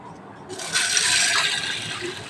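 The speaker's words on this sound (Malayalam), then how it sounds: "അതിലേക്ക് കുറച്ച് വെള്ളം കൂടെ ഒഴിക്കാം" Water poured into a pot of green gram dal payasam, a steady close splashing stream that starts abruptly and runs on for nearly two seconds, moderately loud and alone.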